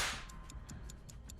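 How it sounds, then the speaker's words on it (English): A disarmed bear trap's rearm timer in the game Dead by Daylight ticks in an even rhythm, six or seven crisp, faint clicks spaced about a fifth of a second apart after a brief hissing opening burst. "When done so, they make a ticking sound that both the Trapper and the survivors can"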